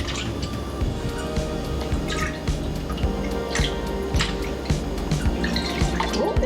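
Milk pours into a bowl of eight eggs, giving close wet drips and splashes in an irregular rhythm, with no talking.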